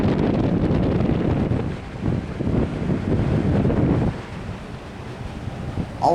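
A hotel HVAC unit at a Sheraton in Boston runs on its high setting, giving a loud, close, continuous rumbling roar that wavers in strength and eases slightly toward the end.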